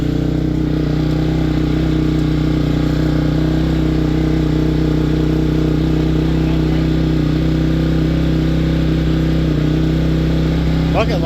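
A 2006 Honda CRF 250X four-stroke dirt bike idles loudly and steadily close by after a cold start, its dense engine rumble running unbroken throughout.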